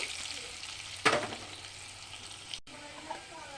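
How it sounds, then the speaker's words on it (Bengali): Potatoes frying with turmeric in hot oil, a steady sizzle that flares once into a louder burst as the pan is stirred, then settles back, heard close with no talking. "প্রথমে আমি আলুগুলি ভেজে নেব অল্প পরিমাণ হলুদ দিয়ে দেবো হালকা করে ভেজে নেব"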